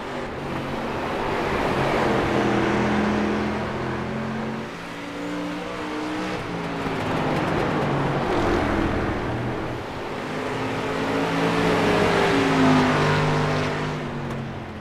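Street stock race cars in iRacing roar together as a pack accelerating off a restart, engine notes climbing and swelling in waves, steady and close with no voices.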